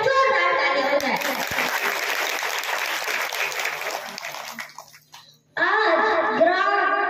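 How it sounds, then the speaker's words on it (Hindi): Loud audience clapping at a Ramayan recitation stage event in a Chhattisgarh village, a dense sustained burst for about five seconds that fades and breaks off, then resumes sharply with a singing voice and music over it. "एक बार इन चारों माँ के सम्मान में जोरदार ताली हो जाए"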